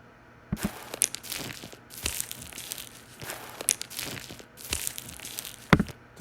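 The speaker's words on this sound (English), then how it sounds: "Took our steps, put them on beat." Footsteps recorded on a camping trip crunch through dry ground cover, a series of irregular near crunches and crackles with brief gaps between steps, ending in one sharp louder crunch.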